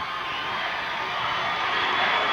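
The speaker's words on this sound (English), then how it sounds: "You hear their Sierra crowd starting to get wild." A high-school basketball crowd backing Sierra at a 1992 state championship game roars in a steady, dense wall of cheering and shouting that holds loud and constant throughout.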